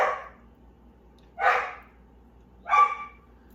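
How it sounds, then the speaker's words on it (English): A dog barks three times, loud and close, with pauses of about a second between barks. "There go my loud dog."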